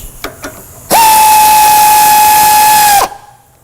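Pneumatic air tool spinning suspension link bolts loose during a billet aluminum integral link install on a 2015 Ford Mustang, a single loud sustained high whine of about two seconds after a couple of faint clicks.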